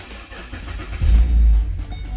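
A 2007 Holden Commodore VE SV6 starts up: a low mid-range engine note rises sharply as it catches, then settles into a steady idle, close and alone.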